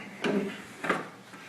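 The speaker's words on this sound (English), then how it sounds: "we're going to open the door," A printer door on an HP Z3100 24-inch large-format printer swings open with two short mechanical clunks about half a second apart, moderately loud and close, with no talking.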